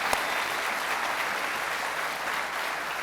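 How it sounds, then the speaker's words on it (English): Crowd applauding a nonprofit's community work at an evening event in Atlanta, a steady, dense roar of clapping hands with little variation, heard from a slight distance. "So I would like for y'all to give them a round of applause for all the work that they've been able to do in the community."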